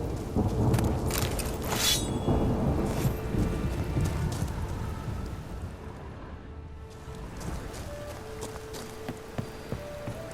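Steady rain pours throughout in the video game Witcher 3 with low rumbling thunder rolling underneath, loud and close, easing slightly toward the end with a few small clicks.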